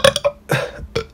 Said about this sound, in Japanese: ゲップ出そう。